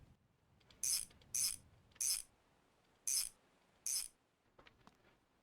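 Bolts are tightened onto a car's drive shaft and gearbox in a garage, heard as five sharp, bright ratcheting bursts at irregular intervals, close up, with faint clicks after them and no talk.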